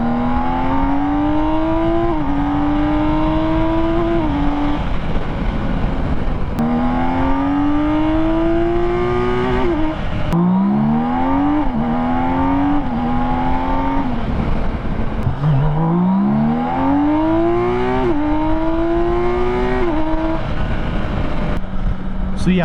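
A 2022 BMW K1600 touring motorcycle's engine pulls hard in second gear, its strong rising tone climbing repeatedly through several long acceleration sweeps with brief drops between, loud and close with steady wind noise.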